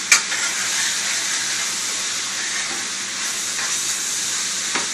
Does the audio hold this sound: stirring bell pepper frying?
yes